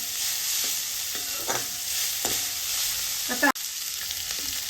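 Cauliflower and peas sautéing in oil give a steady background sizzle broken by several rhythmic scrapes of a spoon stirring the pan, one sharp clatter near the end.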